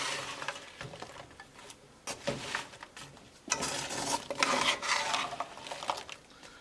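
Fried garbanzo shakarpara pieces are stirred through sugar syrup from bottom to top, close scraping and shuffling against the pan in uneven surges, with no talk.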